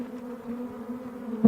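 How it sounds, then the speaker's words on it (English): Honeybees buzzing around a hive in early spring, a steady close drone with a bright hum holding through the whole stretch and a brief louder burst at the end. "How would you describe the sort of behaviour of the bees, Tom, at the moment?"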